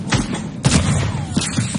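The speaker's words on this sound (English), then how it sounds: "Someone else is shooting." Gunfire in a Fortnite match rings out as several sharp, fairly close shots and booming bursts, spaced irregularly over a couple of seconds with no talking over them.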